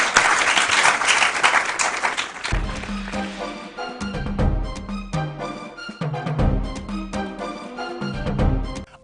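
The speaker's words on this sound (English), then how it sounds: "So a round of applause again." A school quiz audience claps loudly for a couple of seconds after a tied score, then the applause gives way to bright music with a pulsing beat.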